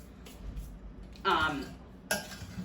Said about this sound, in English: So we're gonna continue to stir this